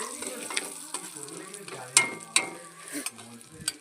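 A spoon scrapes and stirs khesari dal frying with a little turmeric in a pan, gentle sizzle underneath and a few sharp metallic clinks against the pan rim, close and steady with no talking.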